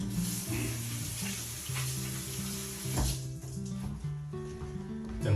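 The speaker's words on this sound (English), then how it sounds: "Quickly wash my hands." A kitchen tap runs steadily into a sink while hands are washed quickly after rubbing butternut squash and apples with oil. The splashing water is close and constant, with shifting gurgles as the hands move under the stream.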